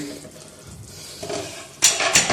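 A metal lid is lifted off a cooking pot of potato and capsicum curry, giving a couple of sharp clanks and scrapes near the end after a quiet stretch of soft kitchen noise, with no talk.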